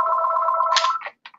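A telephone rings during a webinar, a close electronic ring pulsing steadily for about a second before cutting into a couple of short trailing bursts and silence.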